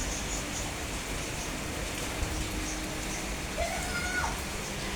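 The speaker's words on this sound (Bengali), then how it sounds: "বৃষ্টি এসে গেছে" Steady rain falls on a rainy day at home, a constant broadband patter that runs unbroken and evenly loud throughout, with a faint bird chirp briefly rising near the end.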